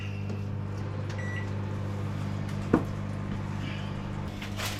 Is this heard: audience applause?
no